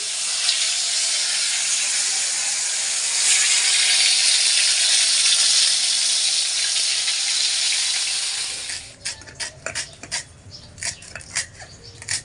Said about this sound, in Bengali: বেগুন ভাজা করে নিচ্ছি